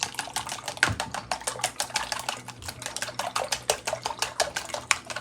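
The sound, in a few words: mixing eggs with chopsticks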